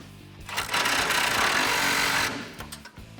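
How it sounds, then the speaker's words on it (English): A ratchet with an extension, swivel and 18mm socket tightens the nut on a sway bar end link of a 2015-2019 Ford F150 front end, a steady whirring buzz for about two seconds between quieter mechanical clicks. "now I'm gonna tighten this guy down with my extension, swivel, and 18mm"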